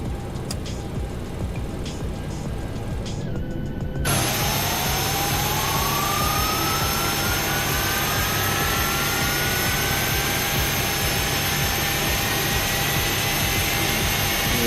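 Engine number 1 of a jet airliner starting in the X-Plane 11 flight simulator: a quieter whine gives way to a sudden loud roar with a rising tone as the turbine spools, continuous and alone.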